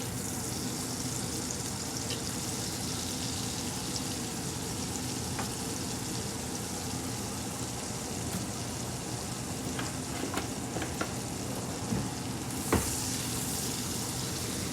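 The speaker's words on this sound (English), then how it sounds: "I want to get me some brown butter going on in here." Butter and olive oil sizzle steadily in a cast iron pan, a continuous close hiss with occasional small pops and clicks, heard alone with no talking.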